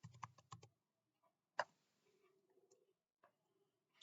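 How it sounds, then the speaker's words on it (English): Code being typed on a computer keyboard: a quick cluster of crisp key clicks, then a single loud tap and a few faint scattered clicks, close and quiet with no talking. "So let's type get data"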